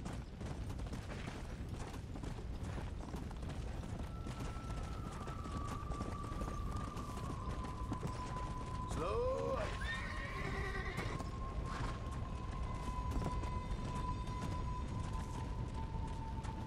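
A horse gallops in the video game Red Dead Redemption: Undead Nightmare, with steady hoof clatter under a sustained musical tone, and a brief whinny partway through.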